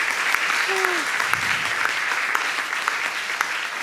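Cheering and applause erupt in a courtroom at DNA test results, a loud, dense crowd roar with sharp claps poking through, continuous from start to finish.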